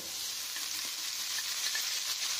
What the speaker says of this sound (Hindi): अब इसको चलाते हैं अच्छे से